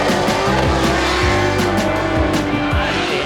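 Drift cars scream through Pro Spec qualifying at Formula Drift New Jersey, with revving engines rising and falling in quick sweeps over loud, continuous tire squeal.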